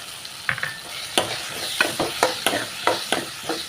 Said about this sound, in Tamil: இப்போ வேக வச்ச அந்த நிலக்கடலையை சேர்த்துக்கிறேங்க.